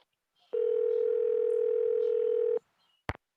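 A steady, loud telephone dial tone after a cut-off call holds for about two seconds, then cuts out, followed by a brief click.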